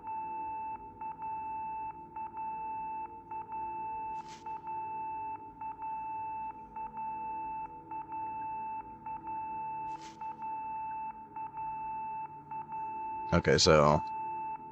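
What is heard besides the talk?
annoying beeping in the video game Project Zero: Mask of the Lunar Eclipse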